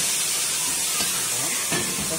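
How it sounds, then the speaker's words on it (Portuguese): Pot of water boiling on a stove while pork ribs fry for rice, a steady close hiss of steam and bubbling that stays even throughout with no voices. "A água tá fervendo."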